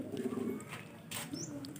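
Kolong racing pigeons coo in a low, throaty, repeated rhythm up close. Faint chirps and rustling fill the background, and no one speaks.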